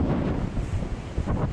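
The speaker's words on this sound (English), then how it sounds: "It's freaking windy, look." Strong wind roars against the microphone on a rocky ocean shore while fishing with mullet bait, a steady loud buffeting rumble with surf mixed in and no voices.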